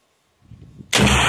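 During a Marine live-fire platoon attack, a faint rumble builds before a sudden loud, sharp blast of weapon fire hits and sustains at the end.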